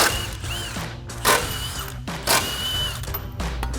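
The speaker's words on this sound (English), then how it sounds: "So we're gonna grab our impact and 15mm socket," An impact wrench with a 15mm socket backs out bumper mounting bolts on a 2014-2015 Sierra 1500, giving repeated rattling, hammering bursts with short pauses between them, heard up close.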